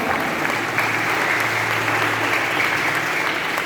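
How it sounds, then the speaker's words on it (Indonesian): Church congregation applauding during a worship service: a loud, continuous roar of many hands clapping, steady and sustained throughout, with a low hum from the room beneath it. "Beri tepuk tangan yang meriah untuk Tuhan kita."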